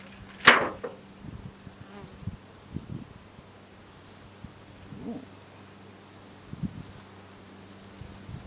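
Honey bees buzz around an open hive during an inspection, a steady low drone with a few louder passes as individual bees fly close, heard without talk.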